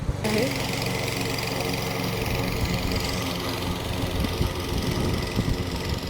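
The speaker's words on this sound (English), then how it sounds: "he's really mowing the lawn today" A lawn mower engine drones steadily outdoors, a continuous, fairly loud mechanical hum that holds level from start to finish.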